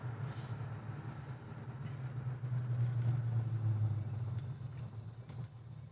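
A 1969 Oldsmobile 442 muscle car on bias-ply tires drives with a steady deep engine rumble and road noise, swelling slightly in the middle, with no talk.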